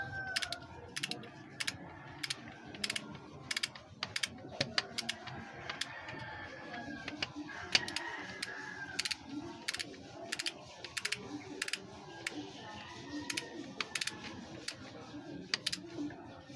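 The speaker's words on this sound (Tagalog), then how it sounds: "Higpitan lang natin siya sa barkads ng kaunti para hindi siya matatanggal." Wrench tightening a bolt on an engine during knock diagnosis, giving a quick series of sharp metallic ratcheting clicks in repeated bursts, close and fairly faint, with a soft voice now and then.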